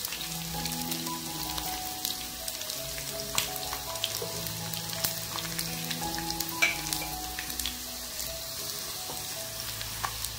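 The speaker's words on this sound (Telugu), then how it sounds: "ఈ తాలింపు వేసుకొని ఇది ఆరినాక పచ్చడిలో కలుపుకుందాం మనం" Urad dal, fenugreek seeds and dried chillies fry in hot oil for a tomato pickle tempering, a steady close sizzle with light crackles and pops throughout.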